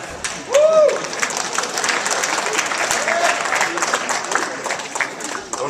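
An audience applauds steadily for several seconds, a dense wash of clapping that swells early and then holds, with a voice briefly heard over it.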